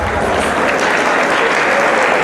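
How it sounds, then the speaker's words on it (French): A large crowd applauds loudly and continuously at a political gathering, a thick unbroken wash of clapping with crowd noise mixed in throughout. "peut applaudir s'il vous plaît"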